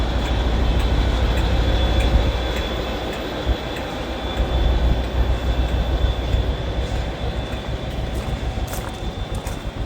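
Locomotive hauling the Pride Pendolino train at a railway gathering, a loud, close rumble of wheels and cars rolling past with faint clicking rail joints, no voices.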